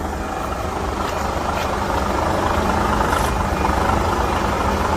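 A Euro 6 truck engine idles loudly and steadily, a deep rumbling drone with a heavy rattling vibration that never lets up.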